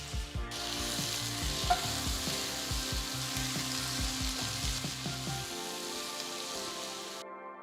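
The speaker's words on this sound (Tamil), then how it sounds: "2 மீடியம் சைஸ் தக்காளியை நறுக்கி போடுங்க." Chopped medium tomatoes sizzle and fry in hot oil in a pan for paneer biryani, a steady close crackle with soft stirring knocks, then fading off at the end.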